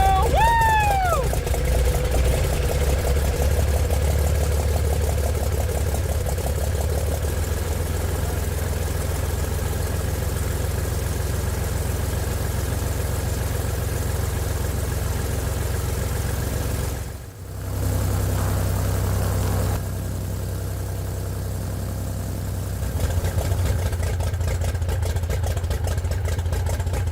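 A 68-year-old museum airplane's engine runs with a deep, loud, steady rumble after starting, briefly dipping and faltering midway before settling back into a rough idle.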